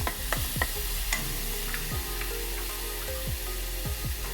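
A wooden spoon stirs a sweet potato and jaggery mixture in a pan, giving a soft continuous sizzle broken by repeated scraping strokes at an irregular rhythm, close and moderately quiet.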